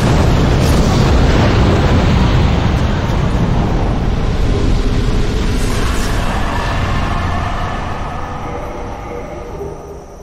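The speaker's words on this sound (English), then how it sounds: "you go to cast your Fire Tempest" Fire Tempest spell explosions in Dark Souls, heard as a loud, sustained roaring blast of fiery rumble that fills the whole stretch and slowly fades toward the end.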